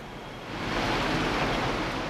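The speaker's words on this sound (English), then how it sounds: "Even an umbrella was unable to shield you from the pouring rain." Dense, steady hiss of heavy rain pouring down on a city district, swelling after a brief quieter start and staying loud and even throughout.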